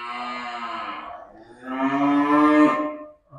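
Cattle at a Vietnamese cattle farm low and moo, with two long drawn-out calls in a row, the second louder and rising, heard close and with no talk over them.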